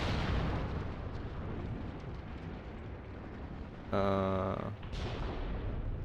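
Gunfire and explosions from the WW2 video game Mius Front at night, a dense continuous rumble of artillery and crackling shots, with a sharp metallic burst of rapid fire near the end, loud and sustained.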